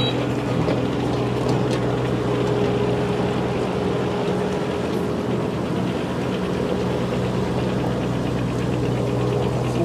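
Kubota U27-4 mini excavator running steadily while tracking in two-speed, a constant loud engine drone with track rumble that holds at an even level throughout with no pauses.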